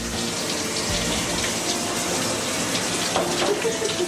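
Running water rinses a dog during a home bath, a steady broadband splash and gush that continues throughout at moderate level with no talking.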